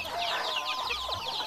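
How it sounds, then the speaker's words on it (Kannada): Native country chickens on an integrated farm flock of about 300 birds, clucking and chirping in quick, overlapping calls at close range, with no talk. "ನಮ್ಮಲ್ಲಿ ಈಗ 300 ಕೋಳಿಗಳಿದೆ"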